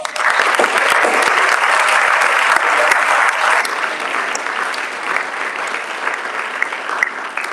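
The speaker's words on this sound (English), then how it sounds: "if we could give these 5 a round of applause" Audience at a school board meeting breaks into sustained applause, a dense, loud wash of many hands clapping that eases slightly midway and continues steadily to the end.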